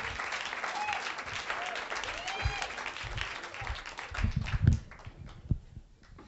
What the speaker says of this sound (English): Everyone, give it up for John